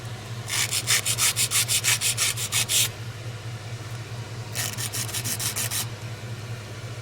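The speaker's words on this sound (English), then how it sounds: "But I would go ahead now and file" A nail file scrubs a plastic nail tip in rapid back-and-forth strokes. Two close bursts of scraping are separated by a pause, over a low steady hum.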